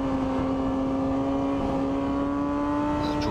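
A steady car engine drone holds several sustained tones, with a faint rising whine near the end; no voices.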